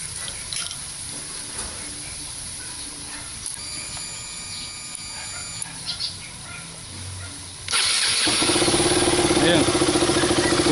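A KTM RC 200 motorcycle with a burned termination unit starts up after quiet fiddling and clicks, then settles into a loud, steady, rattling idle close by.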